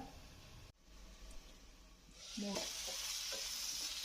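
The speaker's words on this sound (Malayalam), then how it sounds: "കാൽ ടീസ്പൂൺ മഞ്ഞൾപ്പൊടി ഒരു ടീസ്പൂൺ മുളക് പൊടി വെച്ച് വേവിച്ചെടുക്കാം" Ivy gourd cooks in a pan with turmeric and chili powder. After a brief quiet moment, a loud, steady sizzle of frying rises and continues, with a few scraping stirs underneath.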